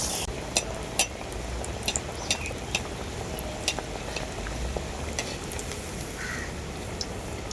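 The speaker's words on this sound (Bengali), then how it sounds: "এরপর চপগুলো আমি ভেজে নেব ব্যাটারে ডুবিয়ে" Batter-dipped chops frying in hot oil, a steady, moderately quiet sizzle with scattered sharp pops and crackles spread across the whole stretch.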